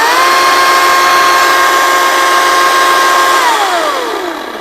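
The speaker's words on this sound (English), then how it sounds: "finally we have the 14-inch chainsaw here" A Ryobi 40-volt 14-inch battery chainsaw revs at a steady high whine close by, holding a constant pitch for several seconds before winding down as the trigger is released.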